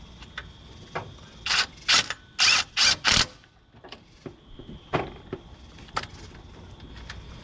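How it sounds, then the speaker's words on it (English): A ratchet clicks on a 17mm socket working an alternator bolt on a 1996 Ford F250 with the 5.8L 351 V8: a handful of short, sharp bursts of clicking close by, then scattered lighter tool taps. "I'm going to use our 17mm socket."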